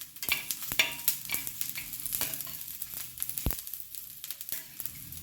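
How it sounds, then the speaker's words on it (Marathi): Garam masala frying in a little oil gives a busy sizzle and crackle, broken up by the scrape and clatter of stirring with a utensil, close and moderately loud. "आता आपण यामध्ये गरम मसाला घालून घेऊया. हे देखील आपल्याला 1 मिनिट छान फ्राय करून घ्यायचं आहे."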